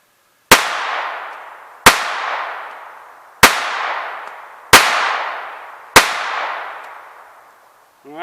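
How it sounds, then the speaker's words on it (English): Five sharp pistol shots from a Walther P22 firing Federal Champion ammunition, spaced about a second and a half apart, each loud crack trailing into a long echoing decay, with no talking. "I'm going to go ahead and finish this up with the Federal Champion."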